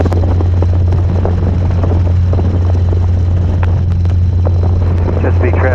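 Robinson R22 helicopter engine and rotor running steadily and loud throughout, a constant low drone with a pulsing rotor beat, close to the microphone, with radio chatter underneath.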